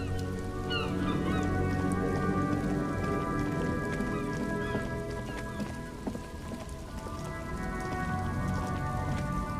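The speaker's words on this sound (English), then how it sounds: "Droplets of rain fall on the white on blue police livery of the motor" Rain falls on a white-and-blue police motor carriage in Disco Elysium, a steady patter of drops layered over a droning ambient tone with some tonal sounds on top.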